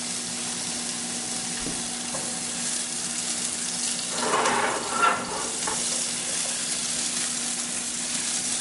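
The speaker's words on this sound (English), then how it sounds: "We just kind of want to saute it while they're still crispy." Spaghetti squash stir fry sautéing in a pan gives a steady, moderate sizzle, with a brief burst of stirring and scraping near the middle, and no talking.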